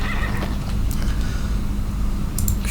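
A horse in the video game Skyrim gives a close, clear neigh, with a soft clip-clop of hooves under a steady ambient background. No one speaks.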